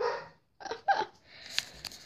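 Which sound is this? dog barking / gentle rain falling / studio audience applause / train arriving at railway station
dog barking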